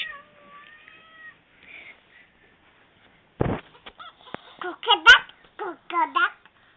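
A human voice imitates a cat, giving a run of short, rising-and-falling meows at close range after a quieter stretch of soft tones and background talk, with a voice nearby.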